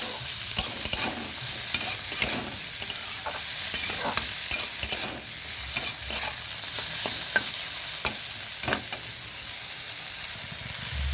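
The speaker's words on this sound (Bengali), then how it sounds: "কড়াইশুঁটি দিয়ে দিলাম। সমস্ত সবজিগুলোকে সুন্দর করে ভেজে নিতে হবে।" Mixed vegetables with green peas fry in a kadai with a steady sizzle, broken by repeated scraping clinks as they are stirred, with no talking.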